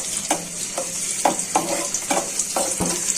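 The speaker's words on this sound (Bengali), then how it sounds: "রসুনটা ভালো করে ভাজা হয়ে যাবে।" Chopped garlic and onion frying in hot oil for a Bengali helencha greens dish, a steady close sizzle broken by repeated scraping stirs of a spatula roughly every half second, with no talking.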